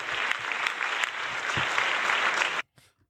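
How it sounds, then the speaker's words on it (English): Clapping during a podcast recording: a dense, steady burst of applause that lasts under three seconds and cuts off abruptly into near silence. "We're going to clap it up for them, man."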